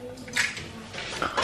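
Dishes being loaded into a home dishwasher give off a short run of soft clinks and clatters of plates and cutlery, heard fairly quietly with no talking.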